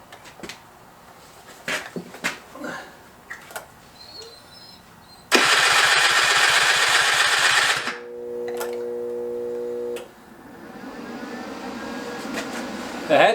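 A Suzuki LT80 engine cranks over during a compression test, giving a loud, steady whirring churn for about three seconds. A steady tone follows, with faint scattered sounds before it.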